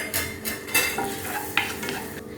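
Cumin seeds and pieces of red chilli sizzle and crackle in hot melted butter in a pan, with stirring and a couple of sharp clinks of a utensil against the pan, close and steady with no talk.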